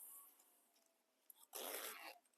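A zipper is pulled open on a sewn sling bag during sewing. There is a faint rasp, then a louder, longer zip of about half a second, recorded close in a quiet room.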